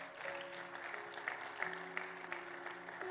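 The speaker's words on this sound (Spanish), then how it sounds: "Vamos a dar un fuerte aplauso al Señor." A church congregation claps loudly and steadily for about three seconds, dense continuous applause from a crowd, with faint voices and a sustained tone beneath.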